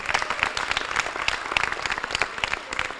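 A crowd at the CROP Awards 2015 ceremony applauds graduating seniors on stage, producing dense, steady clapping from many hands that stays loud and fills the room throughout.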